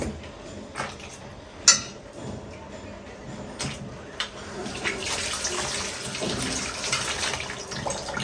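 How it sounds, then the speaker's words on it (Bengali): Dried shark fish is rinsed under running water, a steady splashing flow with a sharp clack of handling near the start and rising spray toward the end, close and alone. "এই যে এক এক করে সব সুটকি ধুয়ে ফেললাম"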